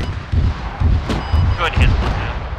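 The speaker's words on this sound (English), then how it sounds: "can we get another artillery strike on the same position?" Artillery fire in a combat video game sounds as repeated heavy booms and rumbling blasts in a steady series, loud and close, with radio-style voices talking over them.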